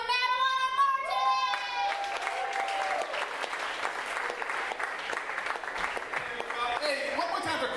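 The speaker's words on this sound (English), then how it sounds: "Let's get clapping right now for Madeline and Martin." An audience at a comedy show gives sustained applause for the next comedians, dense and steady throughout. A voice is heard over the opening moments.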